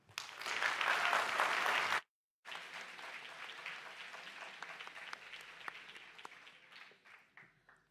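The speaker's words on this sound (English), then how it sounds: "give them another round of applause" An audience applauds graduate students at a Three Minute Thesis event, a burst of steady clapping for about two seconds, a brief gap, then renewed, thinner clapping that gradually tapers off.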